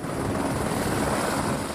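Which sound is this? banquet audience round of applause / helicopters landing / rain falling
helicopters landing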